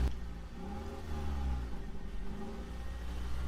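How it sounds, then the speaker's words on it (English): A car engine runs steadily at a low, mid-pitched drone, with a slight rise in revs partway through; no voices over it. "like car engine starting"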